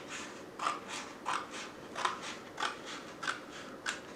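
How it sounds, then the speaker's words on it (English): Scissors snip through a cardboard box along its folded seam, six crisp, evenly spaced cuts about every half second, close and clear with no talking. "Take your scissors, find the seam where the cardboard bends"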